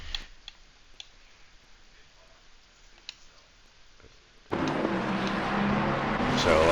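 Race cars in a sim racing game at Suzuka during an endurance event: quiet ticking and clicking at first, then a sudden loud, continuous engine drone and rising revs.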